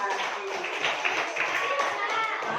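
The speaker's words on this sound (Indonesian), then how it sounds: "Tepuk tangan untuk kelompok 1" Applause for a group's class presentation: a short, dense patter of many hands clapping steadily in a classroom, with no talk over it.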